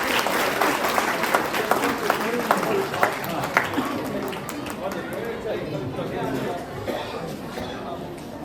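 Applause from the audience at a Sant Gadge Jayanti celebration in Jamshedpur, a full burst of clapping mixed with crowd chatter and voices, loud at first and gradually fading to scattered claps and murmur.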